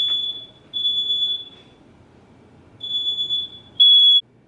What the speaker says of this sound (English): Smoke detector just went off.